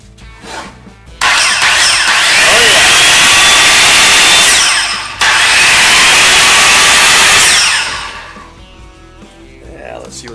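A repaired DeWalt circular saw motor spins up sharply from silence, whines loudly for about four seconds, briefly drops, then runs again before winding down, with faint background sound around it.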